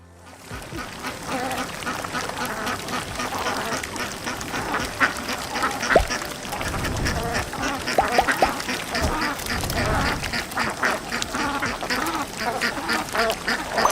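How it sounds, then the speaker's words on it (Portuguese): Ducks quacking repeatedly in a busy, irregular chorus over a steady background, with sharper calls scattered throughout, close and fairly loud. "Pato. Duck."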